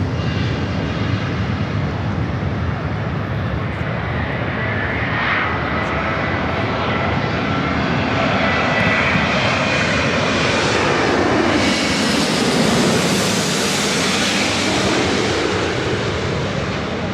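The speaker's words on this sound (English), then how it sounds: "Japan Airlines, Dreamliner heading over to 24 left." A Japan Airlines Boeing 787 Dreamliner comes in to land at LAX on runway 24 left, its engines a steady, loud roar that swells toward the end as the jet passes close by.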